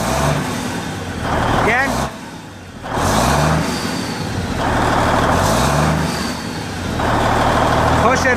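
A 1998 C500 truck on a Texas bed rig up revs its engine in three strong surges between idling lulls, loud and close, with voices speaking over the engine.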